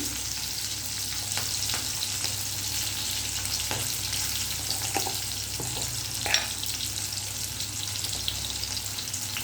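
Okra frying in a pan as it gets stirred, a steady close sizzle with soft scraping and a few brief clinks; no one speaks.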